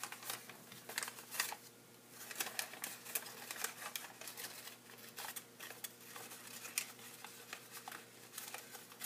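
Origami paper is creased and folded down into a box or carpenter's hat shape, giving soft, close crinkles and brisk papery taps that come in irregular bursts over a steady low hum.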